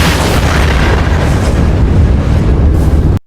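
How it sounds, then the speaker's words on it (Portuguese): A loud explosion sound effect stands for the Chernobyl reactor blast, a dense, sustained rumbling roar that stays heavy for about three seconds and then cuts off abruptly, with no voice over it. "vou colocar a explosão de novo aí pra vocês"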